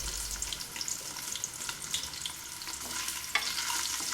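Onions sautéing in a hot pan, a steady close sizzle and crackle with occasional stirring scrapes, no voices.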